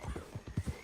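Horse hooves clip-clopping in Red Dead Redemption 2, a quick run of about six soft, low thuds at an even walking pace, fairly faint and without talk.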